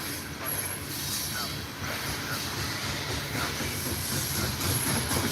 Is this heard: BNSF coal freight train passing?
yes